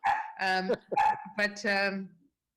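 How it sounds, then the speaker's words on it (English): Several dogs bark and yelp in a rapid, overlapping run of high-pitched calls, fairly close, during an online committee meeting, for about two seconds before stopping. "my dogs are all barking suddenly"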